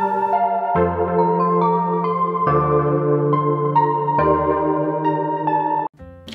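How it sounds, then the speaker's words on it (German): A short melodic music loop from an FL Studio playlist, built on sustained chords that shift every second or two over a steady bass. It cuts out briefly near the end, then starts again. "Ich habe mir hier jetzt auch schon einen kleinen Loop in die Playlist gezogen."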